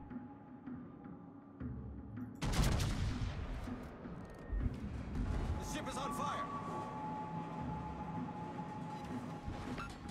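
Heavy booming naval gunfire in World of Warships erupts in a couple of powerful blasts over a steady rumbling background, with a voice talking throughout.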